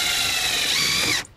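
A power drill drives screws into a trolling motor mount on a paddle boat, a loud steady high whir that runs for just over a second and then cuts off abruptly.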